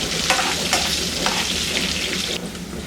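Half a spoon of ginger garlic paste fries on a low flame in a pan, making a steady, close hiss of sizzling oil with a few soft stirring scrapes.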